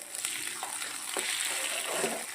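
Garlic and green chillies fry in a pan while making a green moong curry, giving a steady soft sizzle with a few faint stirring clicks.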